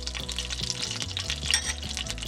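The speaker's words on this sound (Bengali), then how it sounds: "তেল গরম হয়ে গেছে, এই তেলেই দিয়ে দেবো একটা তেজপাতা, একটা গোটা শুকনো লঙ্কা" A bay leaf, a whole dry chili and cumin seeds sizzle in hot oil, making a continuous crackling hiss up close. A low repeating musical hum runs underneath.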